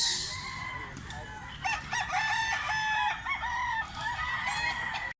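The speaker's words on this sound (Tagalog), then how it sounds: "Napakagwapong manok guys oh." A big grey rooster with black legs crows close by, its long cock-a-doodle-doo rising and falling for several seconds, with clucking and other farm fowl sounds around it.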